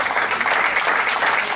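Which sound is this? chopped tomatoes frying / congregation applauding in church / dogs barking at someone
congregation applauding in church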